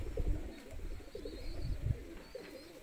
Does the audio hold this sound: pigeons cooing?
yes